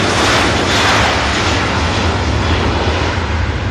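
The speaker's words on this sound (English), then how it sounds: "It's a nice touchdown as well really from the 380." Airbus A380 touching down on the runway at Manchester Airport, a loud, close, broadband roar of engines and rushing air that holds steady throughout, with no voices.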